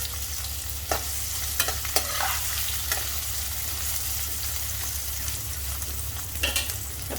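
Chopped onion and two green chillies fry in oil with a constant loud sizzling hiss, while a spoon scrapes and stirs the pan now and then, heard up close without speech.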